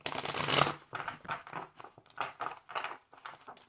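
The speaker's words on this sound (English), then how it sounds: "One more shuffle." Tarot cards being shuffled by hand, a series of short papery riffles and slaps in an uneven rhythm, close and fairly quiet, about six or seven bursts with brief gaps between.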